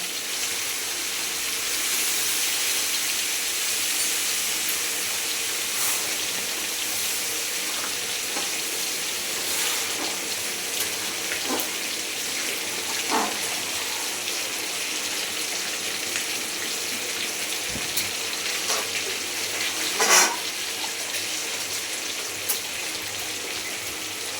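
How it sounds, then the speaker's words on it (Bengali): Water pours into a hot pot of bhuna khichuri, producing a steady hiss and sizzle with faint splashing and occasional clinks, fairly quiet and without any talk. "এবার আমি দিয়ে দেবো জল, এর মধ্যে দিয়ে দিচ্ছি জল বন্ধুরা"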